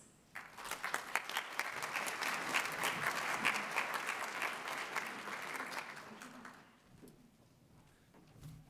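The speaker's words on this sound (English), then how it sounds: "A big round of applause again to our Executive Planning Committee and our board chair." Conference audience applause at a global health gathering, a sustained burst of many hands clapping that swells quickly, holds for several seconds, then thins out into scattered claps near the end.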